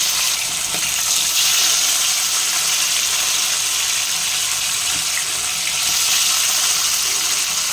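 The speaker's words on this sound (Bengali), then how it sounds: "প্রচণ্ড ফাটছে মাছটা" Rupchhat fish frying in hot mustard oil in a kadai, a steady close sizzle with faint crackles running throughout, no talking.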